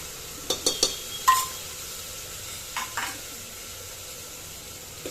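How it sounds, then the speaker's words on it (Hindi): Garlic paste frying in a pan, a soft steady sizzle with a few sharp utensil clinks and scrapes near the start and two duller knocks later, close and without speech. "दो से 3 मिनट लहसुन को भूनने के बाद"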